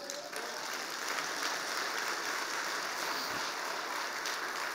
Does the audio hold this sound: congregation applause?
yes